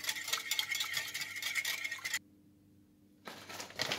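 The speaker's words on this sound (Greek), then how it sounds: "Και θα τα ανακατέψουμε να λιώσουμε την κνόρ μας." A spoon stirring a vegetable stock cube into hot water in a bowl, rapid clinking and scraping against the sides that stops briefly and then resumes, close and without talk.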